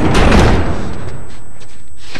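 A door slams shut in The Last of Us on PS3 while a graveyard shelter is barricaded: one heavy thud up close, fading into a dull rumbling tail.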